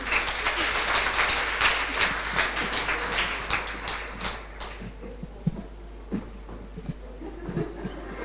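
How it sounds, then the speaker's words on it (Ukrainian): Stormy applause from an audience greeting the winning teams at the final of a Ukrainian youth financial literacy tournament, dense and loud at first, then thinning into scattered claps. "Ваші оплески бурхливі"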